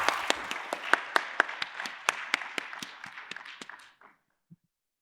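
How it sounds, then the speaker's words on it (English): An audience at a scientific meeting claps after a lecture, fairly sparse and distinct hand claps in a steady run that thins out and stops after about four seconds, leaving near silence. "Let's show our appreciation with a round of applause again."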